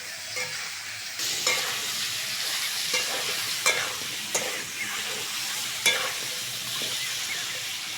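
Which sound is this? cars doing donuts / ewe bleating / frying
frying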